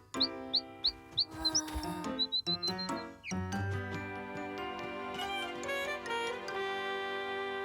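A small cartoon bird chirps in a quick series of high tweets, joined by tinkling musical notes and a gentle tune that continues after the calls.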